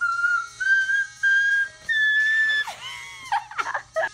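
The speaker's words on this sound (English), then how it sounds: "Do a whistle." A person whistles a series of sustained high notes with short breaks between them, then slides into quick, wavering squeaky whistles, close and clear with no talking.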